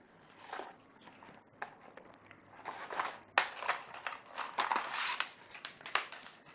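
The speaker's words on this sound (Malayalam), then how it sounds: "ജസ്റ്റ് ഒന്ന് അഴിച്ചു നോക്കാം ഇതെന്താ സംഭവം എന്നുള്ളതൊന്ന് അൺബോക്സ് ചെയ്ത് നോക്കാം" Packaging of a Western Digital M.2 SSD being opened by hand, a close run of crinkling, tearing and rustling plastic and cardboard that grows busier and louder, with no talk.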